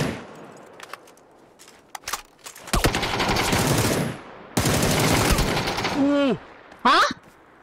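Bursts of gunfire in the first-person battle royale game PUBG, short separate shots early, then loud sustained automatic bursts in two long stretches, followed by brief chirping effects and a final short burst, close and sharp.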